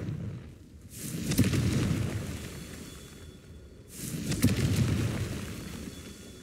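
Two heavy booming fire-spell blasts from the Confringo curse in Hogwarts Legacy, each a sharp onset swelling into a rumbling roar that fades over a couple of seconds, loud and close with no voices.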